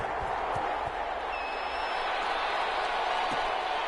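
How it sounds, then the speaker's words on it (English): A stadium crowd in an American football video game on PS4, Eagles against Saints, hums as a loud, constant roar of many voices, with a few faint whistles and thumps rising out of the mass. "This crowd is ready as their guys get set to match up"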